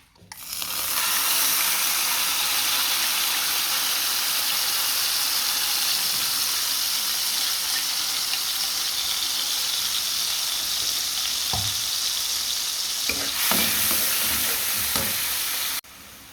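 Blended tomato and onion paste frying in oil in a pan for a chicken vegetable stew gives a loud, steady sizzle that runs almost the whole time, with a few soft stirring knocks near the end.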